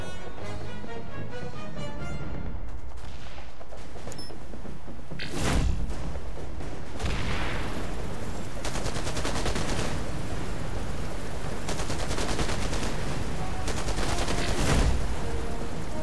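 Rapid bursts of gunfire and thudding impacts rake a vehicle under attack in the futuristic strategy game Anno 2070, dense volleys rolling on loudly with sharper blasts breaking through.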